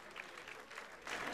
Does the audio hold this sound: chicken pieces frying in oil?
no